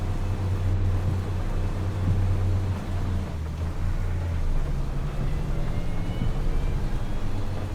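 Tractor engine in a farming video game, working while mowing a field on the Kinlaig map, a steady low drone that holds loud and constant throughout with no talk.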